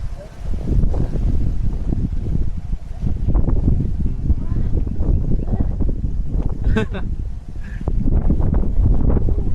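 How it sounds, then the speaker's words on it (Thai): Strong wind roars across a foggy mountain viewpoint near a cliff edge at Sai Thong National Park, Thailand, buffeting the microphone in a loud, continuous low rumble with gusting surges, and a voice is heard beneath it. "ลมแรงมาก"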